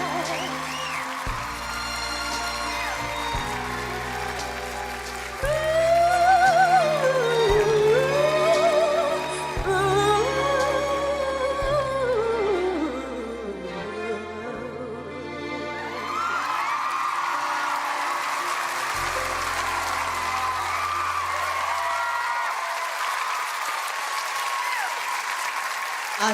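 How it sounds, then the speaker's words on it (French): A talent show audience applauds and cheers loudly over sustained clapping, with whoops and a sung melody fading out before the applause continues alone. "Swadou, merci de l'applaudir, s'il vous plaît."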